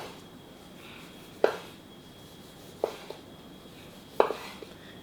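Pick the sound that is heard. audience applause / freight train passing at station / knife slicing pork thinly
knife slicing pork thinly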